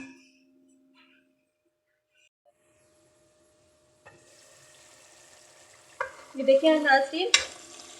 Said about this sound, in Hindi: हमारा ये जो सालन का मसाला है ये भून रहा है।